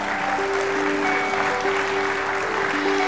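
Congregation clapping during a church sermon, a continuous even wash of applause throughout with a sustained musical tone underneath.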